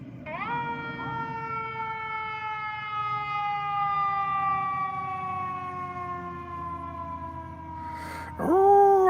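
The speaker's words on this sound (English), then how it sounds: "Every time my dog hears a fire truck, he goes." A fire truck siren wails in a long, steady, slowly falling tone, loud and close, then cuts to a sharp rising sweep near the end.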